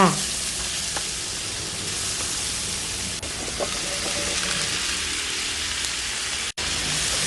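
Pork and cauliflower stir-frying in a pan give a steady, close sizzle that runs throughout, with a few faint clicks of stirring and a brief dropout near the end.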